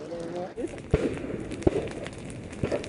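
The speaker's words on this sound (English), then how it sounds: "Those tiny pops there, explosions from the gas, from the lava" A few small, sharp pops at irregular intervals, close and distinct, from gas explosions in a Kilauea lava flow on Hawaii's Big Island, over a low background hiss with faint voices.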